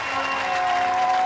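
Crowd applause at a beach volleyball final, a steady wash of clapping from spectators that holds evenly throughout, moderately loud with no break.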